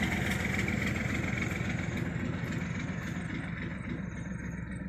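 Idling car engine as the vehicle arrives, its exhaust reportedly soiled after two days of driving; a steady, close, low rumble holds evenly throughout with no voices.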